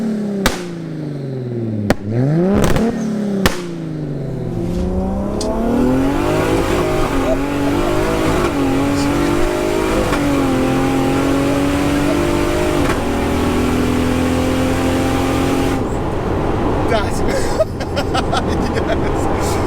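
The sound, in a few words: Toyota Supra MK4 with ZF8 gearbox accelerating and changing gear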